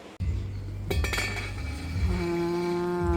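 A metal lid is set on a cooking pot of taro simmering over medium heat, a sharp clank followed by a ringing metallic tone that hangs on and slowly fades.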